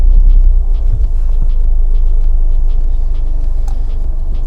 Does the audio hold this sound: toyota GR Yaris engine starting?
yes